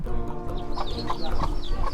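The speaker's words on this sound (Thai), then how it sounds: "ในโรงเรียนจึงมีไก่ฝูงใหญ่อยู่ในเล้า" A large flock of chickens in a school coop clucks steadily and close by, overlapping calls filling the air without talk.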